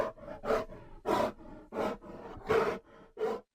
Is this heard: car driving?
no